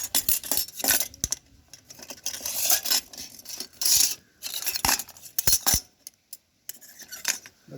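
A heavy metal lock set into a floating bowl in water gives a string of sharp metallic clinks and clatters, close and fairly loud, separated by short pauses.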